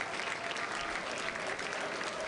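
A crowd gathered at SpaceX Starbase claps and cheers ahead of a Starship rocket launch, a dense, steady wash of applause from many hands at moderate distance.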